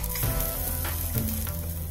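Close, steady sizzling of finely chopped onions frying in a hot pan, with a few soft stirring scrapes breaking through.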